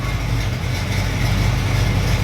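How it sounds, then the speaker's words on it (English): A Chevy small block 350 V8 engine idles with a deep, steady rumble, loud and close, running slightly unevenly, with no talking. "Okay, it's idling. It idles a little rough,"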